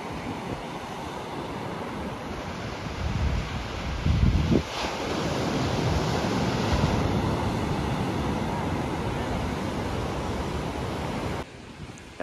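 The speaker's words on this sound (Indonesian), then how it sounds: "Saya nggak berani deket sana karena ombaknya kenceng banget," Strong ocean surf at Ungapan beach in Malang, heard as a steady, loud roar of breaking waves mixed with wind buffeting the microphone, with one heavier crash partway through and no talk.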